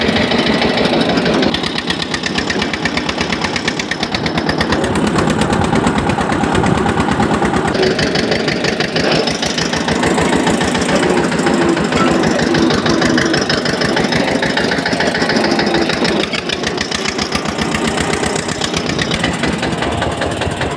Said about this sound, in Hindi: ये हमारा ट्रैक्टर है